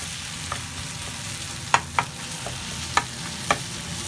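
Chicken shawarma frying on a tawa griddle, with a low steady sizzle under a few sharp spatula taps and scrapes spaced through the moment, close by with no talking.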